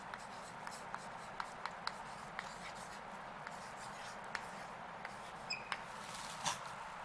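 A pen scratches across paper as the closing line of a letter is written, with soft, irregular strokes and small taps over a quiet room hum.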